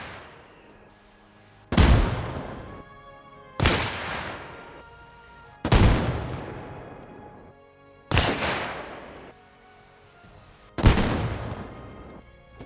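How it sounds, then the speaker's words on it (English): RPG rockets fired in Arma Reforger strike an invisible barrier, five sharp loud blasts at roughly two-second intervals, each decaying into a ringing tail. "my rockets kept hitting what seemed to be an invisible wall"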